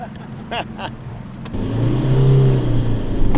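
A Toyota Land Cruiser Prado 150 working off-road in the Cederberg, its engine droning steadily and building in load, heard close after a few brief knocks.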